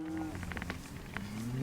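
Cattle moo in long, drawn-out lows during a cattle drive on a guest ranch, one call blending into another, close and fairly loud with no talking.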